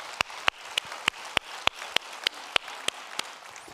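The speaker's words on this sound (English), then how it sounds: "let's give them a round of applause" Evenly spaced, sharp claps ring out about three times a second in a church worship service, a steady rhythmic clapping that stays crisp and fairly close with a quiet room between the beats.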